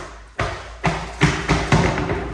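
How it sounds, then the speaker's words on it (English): Hard hand knocks on the rear wheel of a Vauxhall Corsa C or Combo Van as it is freed from the hub, five or six dull thuds in an uneven rhythm, close and fairly loud. "Knock your wheel off like so."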